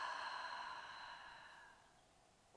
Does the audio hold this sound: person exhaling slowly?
yes